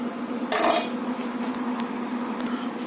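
A spoon is drawn slowly out of a cup of hot homemade mocha. A single bright clink against the cup rings out early, followed by faint scraping and quiet room tone.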